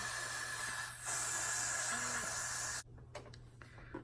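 A steady hissing spray of glue runs for a few seconds, loud and close, then cuts off abruptly, leaving faint rustling and handling noises.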